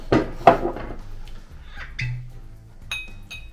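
Glasses clink together in a toast over Pappy Van Winkle 23-year whiskey: a couple of sharp clinks close up, then lighter glassy pings and a soft knock as glasses are set down.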